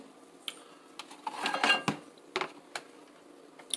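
A utensil stirs cheesy scrambled eggs in a bowl after microwaving, giving a series of light clinks and scrapes against the dish, close and fairly quiet, with a short busier burst in the middle.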